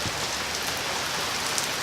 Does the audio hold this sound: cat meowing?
no